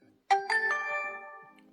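Startup chimes from a DJI Osmo Action 5 Pro action camera: three quick rising electronic tones that ring out and slowly fade, close and clear, with no talking.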